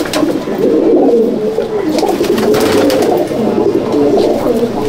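Pigeons in a loft at Chandannagar, Hooghly, cooing continuously in a low, throaty, rolling murmur, several birds close by overlapping steadily throughout.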